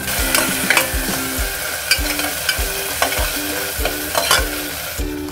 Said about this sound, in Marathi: आता टोमॅटो टाकलाय ना, तो परतून घेऊया चांगला।